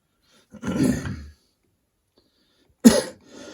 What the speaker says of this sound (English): Still coughing a little bit, but it's coming to an end now.